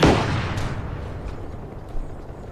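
Anti-aircraft guns fire at a bomber in the video game DCS World: one heavy boom opens, then fades into a rumbling tail with a weaker distant thump later on.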